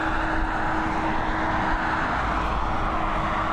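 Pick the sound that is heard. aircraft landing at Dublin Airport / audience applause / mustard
aircraft landing at Dublin Airport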